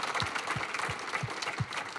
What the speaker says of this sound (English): So let's give one more round of applause for the finalists at least